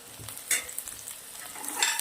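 Finely chopped onion sautéing in hot oil with garlic and ginger, a steady soft sizzle broken by brief scraping stirs of a spoon in the pan.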